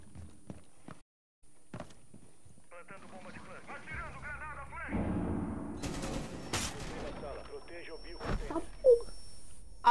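Gunfire in a multiplayer shooter video game, bursts of shots and other game effects crowding together over a steady background, with a player talking across much of it.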